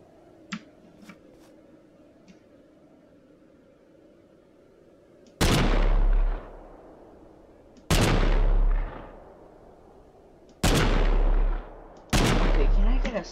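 A shooting video game fires four loud, booming gunshots at spaced intervals. Each blast rings out with a long, heavy tail after a quiet stretch with faint background clicks.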